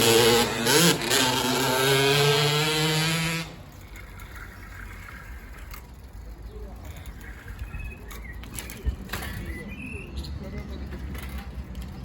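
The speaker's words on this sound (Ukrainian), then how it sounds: "Підлітки на моторолерах." Motor scooters ridden by teenagers pass close by with a loud, rising, whining engine buzz that cuts off after a few seconds, leaving quiet outdoor ambience with faint distant traffic.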